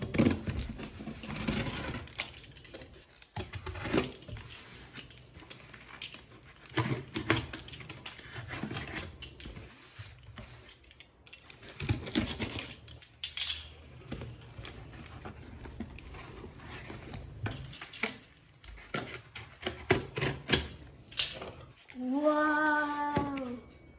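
An Amazon slime kit package is unboxed close by, with crackling cardboard and plastic, tapping, tearing and rustling in irregular bursts, and a short voiced sound near the end.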